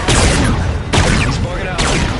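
Continuous heavy gunfire in Call of Duty Infinite Warfare during a space dogfight, loud and dense, surging in three close bursts with a booming, rattling texture.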